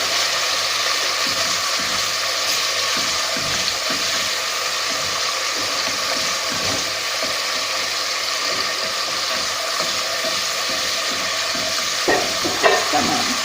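Tomato paste and pepper paste sizzle steadily in a pot for chicken vermicelli soup while a spoon stirs and mashes them, with soft repeated scraping and clinks over a continuous frying hiss.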